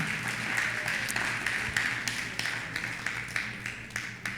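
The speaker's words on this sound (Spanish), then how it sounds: "¿Cuántos le dan un aplauso al Señor?" A church congregation at a Sunday service applauds for the Lord, a sustained mid-level round of clapping with some louder individual claps, while a low steady hum runs underneath.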